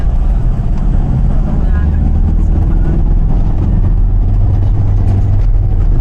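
A car engine idles with a low, steady rumbling hum that holds an even pitch throughout, with muffled voices faintly in the background.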